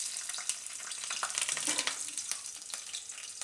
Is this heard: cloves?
yes